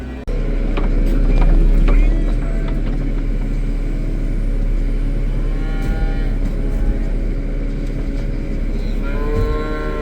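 Cattle lowing over a loud, constant engine rumble, with a few drawn-out moos rising and falling close by.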